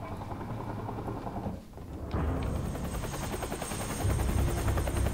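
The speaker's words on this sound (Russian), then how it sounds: "А вот и босс-вертолет." A boss helicopter in the video game Quantum Break gives a loud, continuous rotor thrum that briefly dips, then comes back stronger and heavier. It builds to its loudest in the last second.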